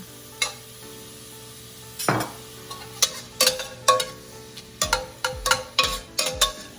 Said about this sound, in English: We're gonna saute this until it's translucent.